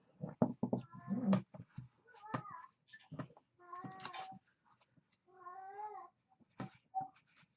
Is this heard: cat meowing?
yes